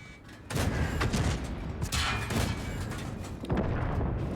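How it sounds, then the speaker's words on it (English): Rapid bursts of machine-gun fire from a BZ-79 tank in a tank battle video game, loud and dense, with volleys starting around half a second in and continuing in clustered runs over booming battle noise. "look at the little machine gun go"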